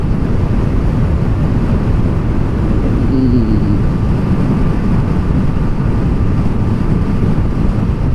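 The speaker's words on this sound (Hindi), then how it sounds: "कितनी तेज हवा चल रही है" Strong wind roars against the microphone while riding a Suzuki Hayabusa motorcycle at speed, a loud, dense, unbroken rushing drone with a faint engine hum beneath and no speech.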